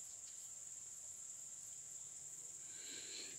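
A steady, shrill buzzing drone of cicadas fills the air continuously, even and unbroken, with no voices present.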